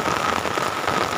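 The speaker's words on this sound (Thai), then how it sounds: "วันนี้ฝนตกไม่มีทีท่าจะหยุดครับ" Steady morning rain pattering on surfaces at a rural village home, an even dense wash of drops that stays constant and close throughout, with no voices.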